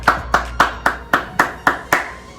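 Eight sharp hand claps in an even, brisk rhythm, each a crisp close snap with short decay, loud and alone.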